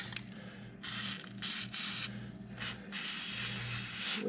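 An aerosol can of lubricant sprays garage door hinges in several short hissing bursts, with brief pauses between them, over a low steady background hum.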